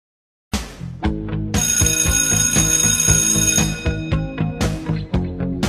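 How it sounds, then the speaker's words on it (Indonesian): A school bell rings for the end of the day, starting suddenly as a loud, sustained electric ring with metallic overtones, then breaking into a rapid rhythmic clanging pattern that keeps going. "Setelah bel pulang berbunyi,"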